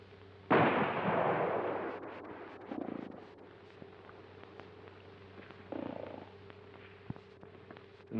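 Gunshots fired at a playing card stuck up as a target in an old western film: a loud broadband blast, then two smaller reports a few seconds apart, with a steady low hum underneath.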